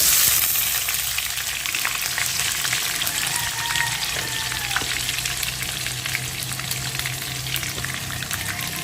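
Garlic and onion fry in a pan with a loud, continuous crackling sizzle, dense with small popping spatters and a faint low hum beneath, holding steady from start to finish.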